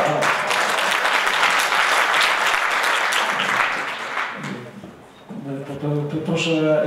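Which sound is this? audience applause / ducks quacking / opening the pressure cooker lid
audience applause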